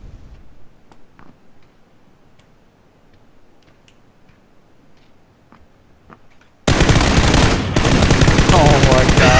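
Sparse, faint clicks and quiet shots in PUBG, then a sudden loud burst of sustained rifle fire erupts near the end and keeps rattling to the close.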